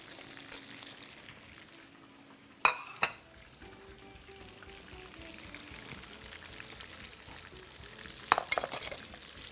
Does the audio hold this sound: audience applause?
no